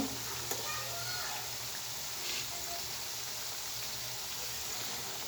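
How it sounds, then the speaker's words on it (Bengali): Potato and flour patties deep-fry in plenty of hot oil, a continuous close, bright sizzle with crackling bubbles that stays even from start to finish. "গরম তেলের ভিতরে ছাড়তে হবে তেলটা একটু বেশি পরিমাণে দিতে হবে এই পিঠো পিঠ করে শুধু গোল্ডেন কালার করে ভাজি করে নেব"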